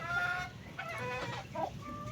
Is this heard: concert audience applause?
no